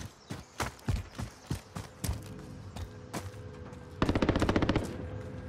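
Gunfire in the video game Modern Warfare Warzone: bursts of single shots and short rapid volleys, moderately distant and fairly faint, ending in a quick automatic burst.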